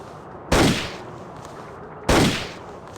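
Two sharp gunshots from a Russian soldier in the Indiana Jones and the Infernal Machine video game, loud isolated cracks about one and a half seconds apart with short echoing decays.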